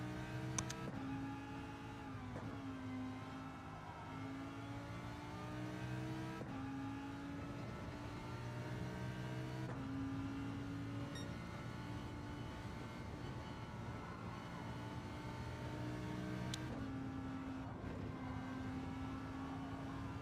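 Engine tones of a car in a VR racing video game rise and fall in smooth sweeps, steady and moderately quiet, with no talking.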